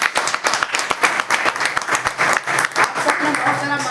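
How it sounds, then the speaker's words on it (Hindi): An audience at a seminar-style gathering breaks into applause for themselves, dense irregular clapping sustained through the moment, with the crowd's voices mixed in beneath. "क्या आज अपने लिए ताली बजाने के लिए तैयार हैं?"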